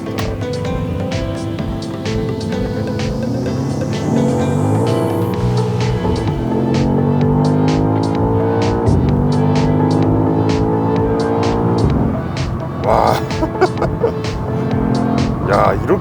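A BMW XM, a 653-horsepower hybrid SUV, accelerating hard through the gears, its engine rising in repeated sweeps with brief pauses between shifts, loud and close, while someone talks over it.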